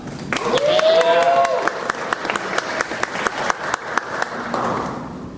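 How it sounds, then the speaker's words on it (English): An audience at a university talk event breaks into a round of applause, steady crowded clapping with a few cheers that holds strong throughout and tapers slightly near the end. "give yourselves a round of applause"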